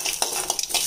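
Mustard seeds, urad dal and curry leaves tempering in hot oil as a spoon stirs the pan, giving a few close metallic scrapes and clinks over a soft sizzle.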